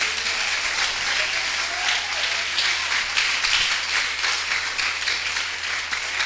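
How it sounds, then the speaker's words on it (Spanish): A church congregation claps together in a dense, continuous burst of applause, loud and even throughout with a faint low hum underneath. "Bríndele un aplauso a Dios, creo que Él se lo merece"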